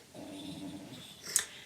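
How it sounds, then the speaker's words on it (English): A dog sitting at someone's feet indoors gives a low, quiet growl for about a second, followed by a brief sharper sound, faint and close with no talking. "that was the dog, by the way."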